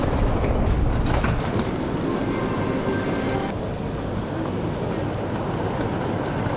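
A steady rail rumble with faint clatter at a railway station serving trains bound for Moscow. The noise stays continuous and moderately loud throughout, with no speech.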